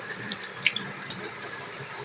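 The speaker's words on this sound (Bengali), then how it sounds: "তো গাঁটিগুলোকে ধুয়ে নেব" Taro roots being rinsed under a running kitchen tap, with a steady stream of water and scattered splashes and drips close by, no voices.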